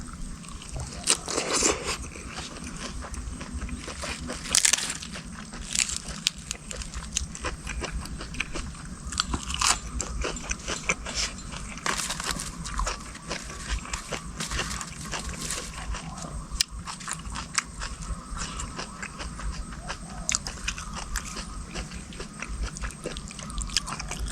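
Crunchy papaya salad with fresh shrimp, fermented fish sauce and crisp raw vegetables is chewed close up, a long run of wet crunching and biting bites with irregular rhythm, without talk.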